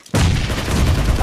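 A bomb blast in the video game BGMI, a sudden loud boom that opens after brief quiet and rolls on as a dense, rumbling roar to the end.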